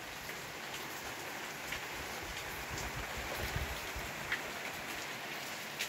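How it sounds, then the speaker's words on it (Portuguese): Steady rain falling on a rainy morning in rural Paraíba, a dense continuous hiss of drops on surfaces with scattered louder patters, even and enveloping with no voices. "Muita chuva, viu?"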